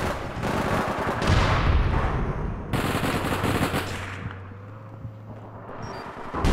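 Dense, rapid automatic gunfire from the video game APB Reloaded rattles continuously for several seconds, then thins into scattered shots over a low droning hum, with no speech.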